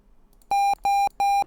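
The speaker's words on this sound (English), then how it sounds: "Okay, it did beep." A homemade operating system written in C# sounds three evenly spaced, steady electronic computer beeps on mouse clicks, each pure tone lasting about a quarter second, loud and clear against a quiet background.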